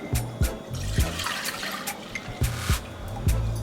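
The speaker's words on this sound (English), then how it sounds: "So I'm going to add the mixture to the pot," A mixture is poured into a cooking pot while Jamaican steamed fish is being made, giving a wet, gurgling splash with repeated soft knocks, close and fairly loud.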